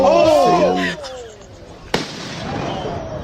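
A firecracker thrown by a group bursts with one sharp loud crack near the middle, after people's excited voices and shouting, followed by a lingering crackle and crowd noise.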